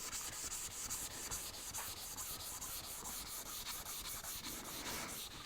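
A hand tool works a chamfer along a wooden edge, giving a continuous rhythmic rasping scrape of even strokes, close and steady, with no voices.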